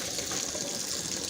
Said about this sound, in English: Turn on cold water because you don't want that scalding hot water to go down your sink.